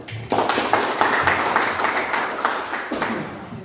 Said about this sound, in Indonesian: Tepuk tangan untuk Anda dulu.